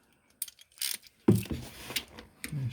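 Metallic clicks and scraping as a screw-on aluminum part is snugged up by hand during an oil change on a Yamaha Kodiak 700 ATV, several close, brief mechanical sounds separated by short pauses, with no talking.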